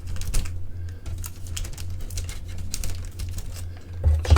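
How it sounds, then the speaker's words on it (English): Scissors cutting along the plastic bag seal of a Trumpeter 1:350 scale HMS Hood model kit, giving soft crinkles and ticking snips over a steady low hum. "Let's try and cut this right on the seal. Don't want to rip the bags open."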